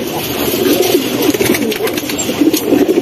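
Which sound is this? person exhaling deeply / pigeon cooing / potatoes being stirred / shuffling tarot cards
pigeon cooing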